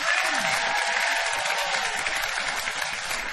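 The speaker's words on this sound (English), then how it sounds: "Give yourselves a round of applause." Studio audience applauding at a live taped show, a dense steady wash of clapping filling the room for a few seconds with faint voices mixed in.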